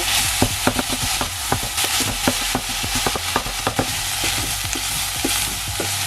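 Crumbled vegan meat fries loudly in a pan with garlic for a vegan lasagna, a constant hiss of sizzling punctuated by rapid, irregular clacks of a utensil breaking it apart and stirring.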